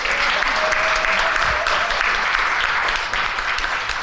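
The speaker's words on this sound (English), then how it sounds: "Let's give her another round of applause." Audience at a holiday success panel and closing ceremony claps in a dense, loud, sustained round of applause filling the whole stretch.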